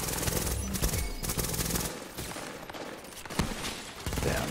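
Continuous rapid gunfire in The Division's Dark Zone PvP, with dense overlapping automatic bursts filling the whole stretch without pause, loud and close.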